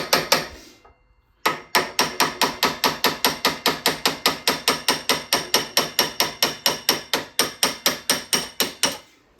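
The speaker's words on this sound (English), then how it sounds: "I'm going to tap this hammer and a punch." A hammer strikes a metal punch to drive out the front axle of a Honda Shadow motorcycle, in a steady rapid series of sharp ringing taps, close and loud, after a brief pause at the start.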